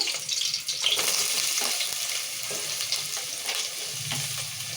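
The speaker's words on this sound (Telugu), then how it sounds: "నూనె వేడైంది పచ్చిమిరపకాయలు వేసుకుందాము ఇక ఉల్లిగడ్డ వేసుకున్నాం" Green chillies and onions go into hot oil for a village-style chicken curry and sizzle loudly and close, a dense crackling hiss with bursts of spattering. Nobody speaks.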